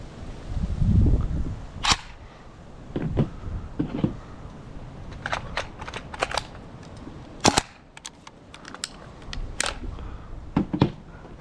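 GHK AKM airsoft rifle firing single shots with poor range, sharp cracks arriving irregularly about a dozen times, some close together, over a low rumbling background.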